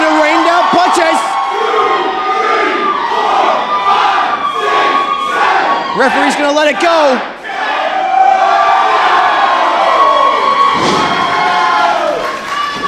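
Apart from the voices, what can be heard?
wrestling crowd cheering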